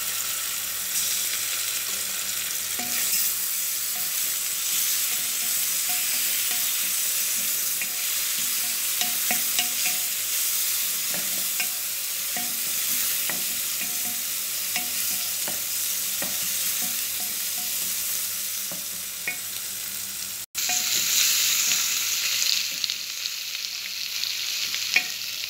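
Garlic and ginger paste sizzles with onions in a pan, a steady loud frying hiss throughout with occasional scraping stirs, brightening late on; no talk.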